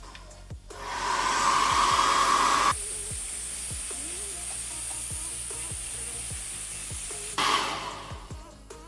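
A hair dryer or heat gun heating a sticker to soften its glue blows with a steady, loud whoosh, switching up to a higher pitch partway through before dropping back, with faint clicks throughout.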